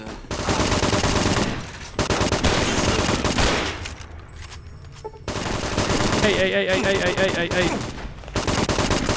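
Gunfire in Fallout New Vegas: loud, rapid automatic bursts in close bursts separated by short pauses, with a brief spoken exclamation in between.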